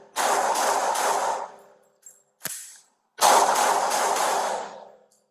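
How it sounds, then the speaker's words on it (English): Gunfire during a police confrontation with an armed man at a police station: two long, loud volleys of rapid shots that blur together, separated by a couple of sharp isolated cracks. "Shots fired. Shots fired."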